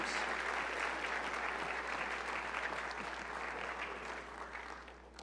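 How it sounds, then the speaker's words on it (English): A large audience at a university opening session applauds student teams, producing a steady, full round of clapping that holds for several seconds and tapers slightly at the end. "round of applause for all of these great teams"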